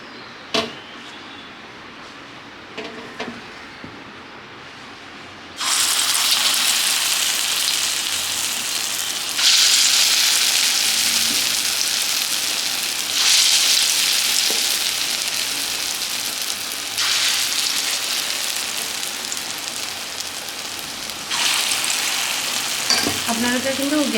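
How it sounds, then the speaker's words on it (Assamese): Pakoras dropped one by one into hot oil over a lowered gas flame set up a loud, steady sizzle that surges in several waves, with softer kitchen clatter before the frying starts. "এয়া তেলখিনি যিহেতু গৰম হৈছে, এতিয়া মই ইয়াত এটা এটাকৈ পকৰিটো দি যাম।"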